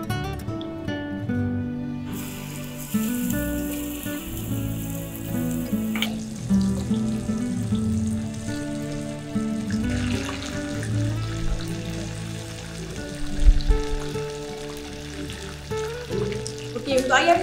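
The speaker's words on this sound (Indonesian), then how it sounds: "So kita nak goreng ayam ni dulu tau." Chicken frying in a preheated pan, a steady sizzle running throughout with clatter and handling noises, while someone talks over it.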